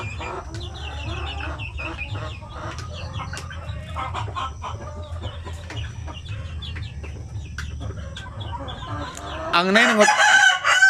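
Native chickens cluck continuously around a farmyard while a rooster bursts into a loud, close crow near the end; a voice briefly speaks.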